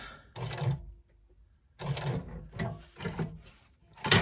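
A sewing machine stitches through fabric connectors in short motorized bursts, three or four runs of rapid needle chatter separated by brief quiet pauses, close and clear.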